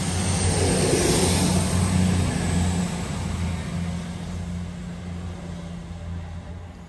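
A train passes through Long Eaton station on a Nottingham to Birmingham New Street service, making a loud, steady rumble with a low droning hum that slowly fades as it moves on. No voices are heard.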